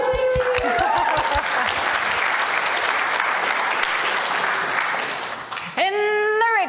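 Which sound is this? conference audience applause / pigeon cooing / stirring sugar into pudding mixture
conference audience applause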